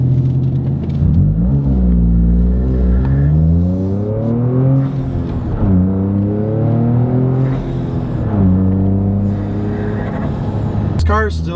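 Toyota GR Corolla fitted with an MBRP center exit exhaust, driven on the road with a steady low engine drone that rises and falls through gear changes, heard from inside the car, loud and continuous.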